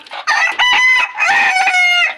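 Village roosters of about a kilogram each crow loudly and close by, two long drawn-out calls in a row, with no talk over them.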